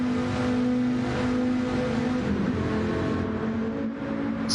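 Gr.4 race car in Gran Turismo 7 engine droning loudly at high revs and then dropping in pitch through a quick downshift, steady and close with no voices.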